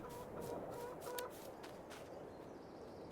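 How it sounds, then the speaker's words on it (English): Chickens clucking steadily in a farming game, a low continuous bed of fowl chatter with several sharper clucks layered over constant ambient noise, no talking. "Here we are by the chickens"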